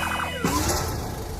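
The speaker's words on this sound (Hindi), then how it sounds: "अब तभी उनके घर एम्बुलेंस आ जाती है" Ambulance siren wailing up to a house, loud and close, its rising and falling tone continuous with a brief shift in pitch partway, no voices.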